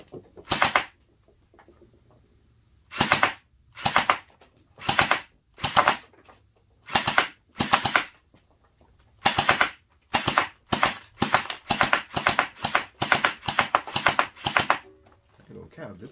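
A Mini AK-47 gel blaster fires test shots: one close, sharp burst, then a pause, then evenly spaced shots that quicken into a rapid series near the end, with near-silent gaps between the early bursts.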